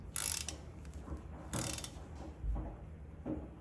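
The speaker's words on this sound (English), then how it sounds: "Tighten this one down again, and this should be our final tightening." A ratchet tightens intake manifold bolts on a 2023 Harley FLHXS during a Screamin Eagle 55mm install, giving a few short bursts of clicking spaced apart, close but fairly soft, with no talking.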